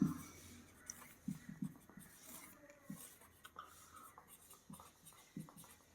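Marker or chalk strokes on a classroom board, faint scratchy taps and short squeaks coming in irregular bursts against a quiet room with no talk.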